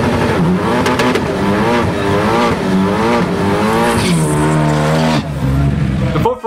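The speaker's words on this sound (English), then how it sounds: "At number 5, we have the Ford Focus ST." A Ford Focus ST sports car drives hard, its engine note rising and falling through the revs with tire squeal, loud and close, while a voice talks over it.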